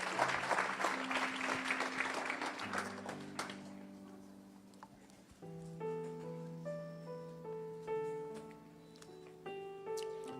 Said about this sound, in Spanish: Den un aplauso al Señor y tome su lugar.